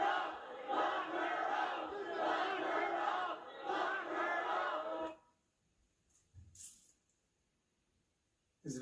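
A large, tightly packed crowd of militant protesters roars and shouts together in a sustained, loud clamor for about five seconds, then cuts off abruptly into near silence broken by a few faint thuds.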